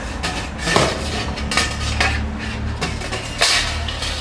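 A metal mash pipe set down into a Brew Monk all-grain brewing vessel during a batch with about 3 kilos of grain, giving a few close metallic clanks and clinks spread across a few seconds with no talk.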